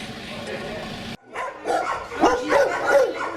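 Galgos barking inside a shelter's kennel boxes, several rough barks and yips overlapping close by after a short spell of other noise, with voices talking beneath them.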